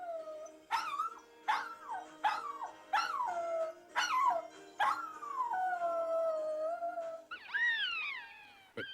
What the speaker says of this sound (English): some tonal quality in this television theme tune starts this dog howling.